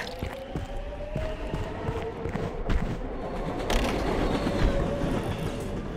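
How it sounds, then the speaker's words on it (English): A train passing in a multiplayer video game rumbles and clanks with repeated metallic knocks and a sustained tonal whine, the sound swelling louder partway through as it nears. "Don't get hit by the train."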